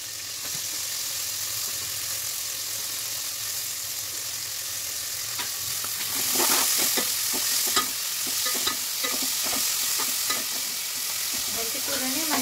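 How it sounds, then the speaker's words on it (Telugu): Fenugreek leaves frying in oil in a pan with curry leaves, a steady bright sizzle throughout, with stirring scrapes and clatters joining in over the second half. "మెంతి కూరని మంచిగా ఆయిల్లో మగ్గించుకోండి ఫ్రెండ్స్"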